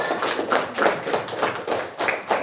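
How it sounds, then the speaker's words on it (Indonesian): A small classroom group claps hands together, with quick, uneven bursts that rise and fall in several waves, moderately loud and close. "Tepuk tangan."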